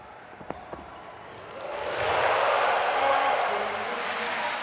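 Crowd roar swells at a show jumping arena in Hong Kong for local favourite rider Kenneth Cheng, a broad wash of cheering that rises after a couple of seconds and holds loud to the end.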